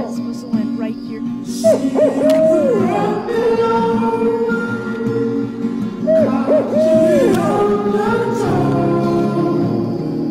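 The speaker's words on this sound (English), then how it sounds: "We're calling in the barn owl." An owl answers a call outdoors with two drawn-out, wavering hoot phrases a few seconds apart, rising and falling over steady background noise.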